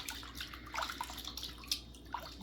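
Water splashes and trickles softly during a bath as hair is rinsed by hand or with a small cloth, with faint irregular drips and pours in a quiet room.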